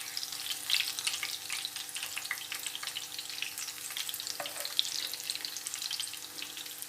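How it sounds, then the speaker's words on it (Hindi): Onion rings fry in hot oil with a steady, close crackling sizzle and a few brief clinks, with no one talking. "ये रिंग मैंने डाली हैं प्याज़ों की। अब इन्हें फ्राई करते हैं।"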